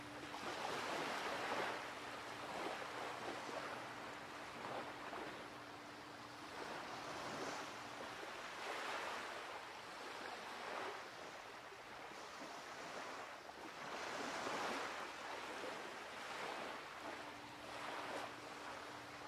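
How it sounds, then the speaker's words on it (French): Ocean waves wash and slap against the hull of a boat in a steady, continuous surge, a soft wide rush rising and falling without any voices. "Tu entends également le clapot de ces mêmes vagues sur la coque de ton bateau."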